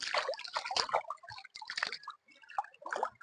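A shallow stream flows with irregular splashing, dripping and trickling. The sound is close, moderately quiet and uneven, and no one speaks.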